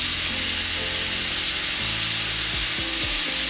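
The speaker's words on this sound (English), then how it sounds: "Give that a stir." Food seasoned with salt, garlic-and-herb seasoning and black pepper is stirred in a hot pan, giving a loud, continuous sizzle with faint scraping underneath and no voices.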